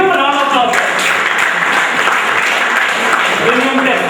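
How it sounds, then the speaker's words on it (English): Applause from a quiz competition audience, loud and continuous hand clapping filling the whole stretch, with some voices and tonal sounds mixed in underneath. "Give him a round of applause."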